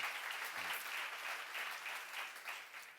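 Quiet church congregation applause, a continuous patter of many hands that swells and eases slightly, heard at a distance and fairly faint.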